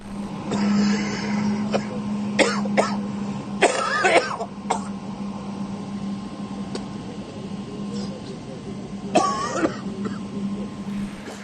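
Several short, sharp coughs in scattered bursts, a couple grouped close together, over a steady low hum with no talking.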